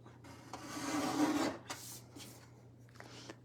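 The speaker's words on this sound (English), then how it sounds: "So we'll trim the journaling card." A paper trimmer slices through a scrapbooking journaling card with a close, dry rasping slide lasting about a second, followed by a few lighter scraping touches and soft handling noises.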